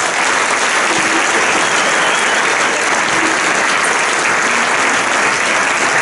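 Dense, steady applause from an audience at a children's carnival prince coronation in Düsseldorf, a continuous loud wash of clapping lasting throughout with no pauses.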